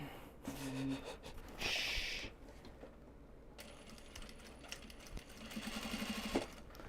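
A sewing machine runs in short bursts, stitching an extra seam along the flap of an upcycled obi, its mechanical whir starting and stopping close by with faint handling noises in between.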